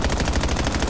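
Rapid automatic gunfire in Call of Duty, shots punched through walls at an opponent, a dense fast burst of evenly spaced cracks, loud and close with no talk over it.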